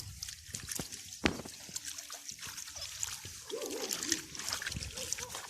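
Water poured over a blanket while it is rolled up during hand washing, giving soft splashing and trickling with sloshing, close by and moderately quiet, with faint background voices.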